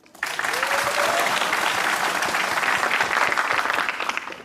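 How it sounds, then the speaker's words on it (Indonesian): Loud, dense applause from a live comedy show audience fills the room steadily for several seconds, with a brief whoop-like voice rising early on. "Saya cuma pengen minta tepuk tangan aja sebenarnya."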